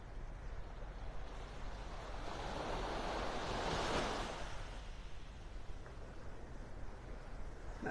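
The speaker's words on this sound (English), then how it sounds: "a few little waves rolling up onto the shore" Small ocean waves roll onto a beach shore in North Naples, Florida, a steady soft wash that swells to one louder surge and then eases off, with light wind noise and no voices.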